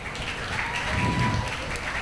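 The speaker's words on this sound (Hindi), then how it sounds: "Welcome them with a great round of applause." Audience at a farewell event applauds to welcome dance performers onstage, a moderate and fairly even patter of clapping from the crowd, with faint voices and a faint tone in the background.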